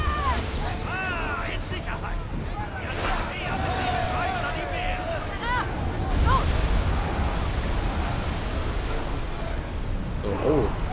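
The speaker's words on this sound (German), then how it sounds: "Wir segeln so schnell es geht." A sailing ship cuts through waves in Assassin's Creed Odyssey, with a steady wash of water and wind running the whole time beneath ongoing game sounds and someone talking.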